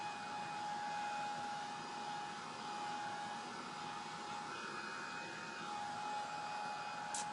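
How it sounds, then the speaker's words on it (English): A hot air tool blowing to dry wax on fall acorn decor, a steady soft whooshing hum held evenly from start to finish, quiet and unbroken, with no talking. "I'm going to dry this wax that's on here."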